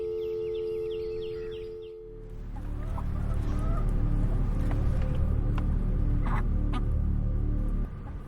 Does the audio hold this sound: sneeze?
no